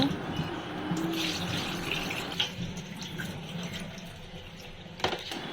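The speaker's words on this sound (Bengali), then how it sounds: "আমগুলা ধুয়ে ভালোভাবে পরিষ্কার করে নিব যাতে আমের কষগুলা লেগে না থাকে" Raw green mangoes are washed under a running kitchen tap, giving a steady splashing water flow close by. Brief clatters and splashes come as the fruit is handled, and there is no talk.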